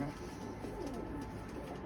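Soft, low pigeon cooing murmurs steadily through a muffled background in a balcony coop, close and continuous without clear breaks.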